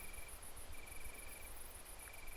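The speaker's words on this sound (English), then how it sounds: "The sound of crickets and the rustle of wind in the leaves made a soothing sound." Crickets chirp steadily at night near a forest in a high, pulsing trill, with a faint second insect tone and a low background hum; no talking.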